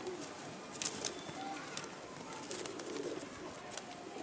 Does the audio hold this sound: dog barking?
no